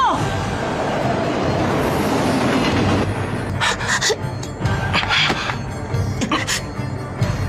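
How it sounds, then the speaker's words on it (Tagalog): A train rumbles loudly with rushing, rattling noise, then sharp squeals and clatters break through as it nears; gasps and voices occur briefly. "Parating na yung isang tren! Babangga na tayo!"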